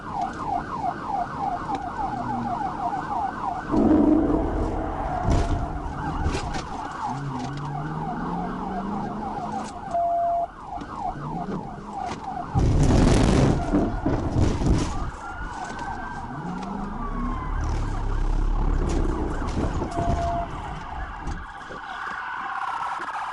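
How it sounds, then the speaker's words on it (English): A wailing police car siren cycles steadily over road and engine noise during a truck pursuit, with bursts of louder passing traffic and brief switches in siren pattern. "the vehicle continued to disregard my blue lights and sirens"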